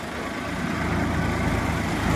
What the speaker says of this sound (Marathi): कशी ट्रॅक्टर चालले चिखल मध्ये.